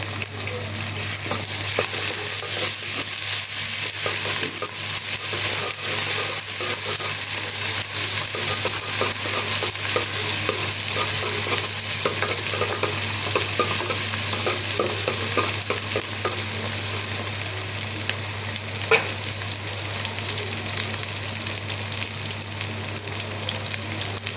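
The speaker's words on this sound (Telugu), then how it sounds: "ఇప్పుడు కొంచెం అల్లం తాలింపుకు" Ginger frying in hot tempering oil, a steady close sizzle with frequent scraping stirs of a spatula against the pan and a constant low hum, continuous throughout with no talking.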